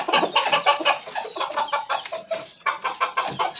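Gamecocks kept as fighting roosters cluck and call in a dense, busy stream of short bursts throughout, several birds close by with no talk.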